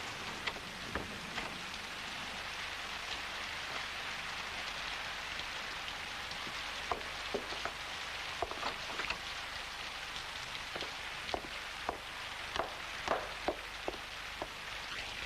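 Steady rain patters on a surface, with scattered heavier drips landing close by over a continuous wash of falling water.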